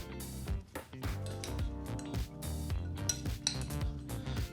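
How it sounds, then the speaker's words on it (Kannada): Sprouted legume salad being mixed in a bowl, with a spoon clinking and scraping against the dish in steady, close strokes over faint background music. "ಈಗ ಎಲ್ಲ ಪದಾರ್ಥಗಳು ಚೆನ್ನಾಗಿ ಬೆರೆಯೋ ಹಾಗೆ ಮಿಕ್ಸ್ ಮಾಡ್ಕೋಬೇಕು."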